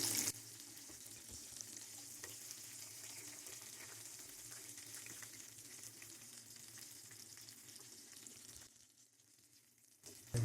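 Spicy masala fish frying in hot oil gives a steady, soft, hissing sizzle for about eight seconds, faint and even with no talk, before it drops away near the end.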